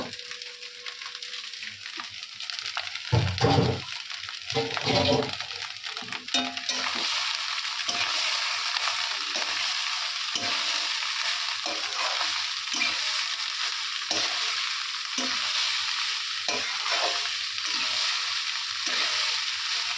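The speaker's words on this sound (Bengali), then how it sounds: "ভাতগুলো যদি একটু ভাজা ভাজা করে দিই" Leftover rice is fried and stirred in a pan at home, with an even, close sizzle running throughout and scraping stir strokes near the start, under a faint hum of background activity.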